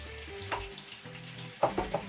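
A lamb shank caramelizing in a hot pan over lowered heat sizzles softly as a little water goes in. The frying is quiet and close, with a few sharper crackles and spits toward the end.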